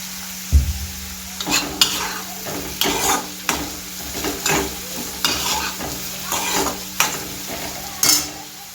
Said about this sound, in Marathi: कांदा लवकर शिजण्यासाठी तेल हे टाकूया। मीठ टाकून घेऊया, कांदा लवकर शिजावा म्हणून।